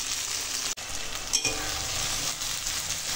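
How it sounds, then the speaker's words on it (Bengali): Onions fry in plenty of oil in a kadai, giving a steady close sizzle with brief stirring scrapes in a short, fairly quiet burst. "পেঁয়াজটাকে ভেজে নিই।"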